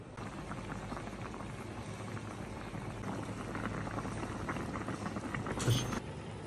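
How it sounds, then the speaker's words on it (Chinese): Braised fat sausage simmers in a pot with a steady, low bubbling boil that stays fairly faint and continuous throughout. "开火，咱们炖十分钟。"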